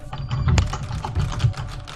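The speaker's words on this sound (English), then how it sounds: "I have this mechanical keyboard, which is less than a foot from the mic" A mechanical computer keyboard less than a foot from the mic clatters in a dense, fast run of close keystrokes, with a low rumble mixed in underneath.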